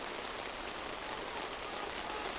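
Steady rain falls throughout during an under-20 rugby league match in Harare, a dense, even hiss of drops with no talk.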